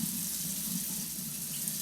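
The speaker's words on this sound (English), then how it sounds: "Bear with me while I fill mine up with hot water" Hot water runs steadily from a tap into a container, a close, continuous hiss and splash with no pauses and no voices.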